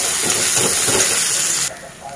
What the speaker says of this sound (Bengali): তো এই যে কালো জিরে ফোড়ন দিয়ে বসিয়ে দিলাম, আর একটু পেঁয়াজ দিলাম